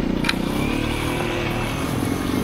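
A motorcycle running steadily in a riding training exercise, its engine droning loud and close with a constant low rumble for the whole stretch.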